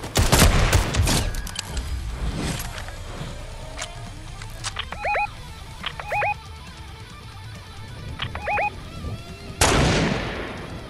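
Gunfire in a shooter video game, a busy stretch of loud sharp shots and crackling bursts with game chirps in between, ending in a final heavy blast.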